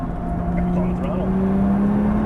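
A Porsche 911 Turbo engine pulling hard on a race track, a loud steady drone rising in pitch as it accelerates, with someone talking over it.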